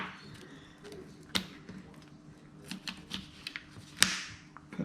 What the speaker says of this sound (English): So just cut through the middle of the cartilage.